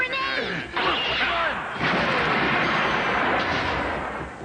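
Grenade blast in a video game: a loud, sustained roaring explosion with rumbling debris that fills the clip after a shouted voice and a few game tones at the start.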